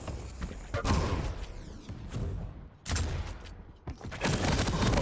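Rapid weapon fire and rocket blasts in a Quake match, sharp loud bursts clustered in several volleys with brief gaps between, close and dense, with no talk over them.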